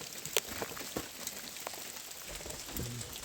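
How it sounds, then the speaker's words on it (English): Ice from an overnight ice storm dropping off trees, a steady pattering like rain with scattered sharper ticks and small impacts, heard outdoors at moderate distance with no talking. "it sounds like it's raining, but it's not raining"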